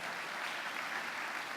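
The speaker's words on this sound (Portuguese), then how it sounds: "Aplaudo o Senhor por essa palavra poderosa." A crowd claps steadily through a church sermon, dense and continuous applause with no clear gaps, fairly close and even in loudness from start to finish.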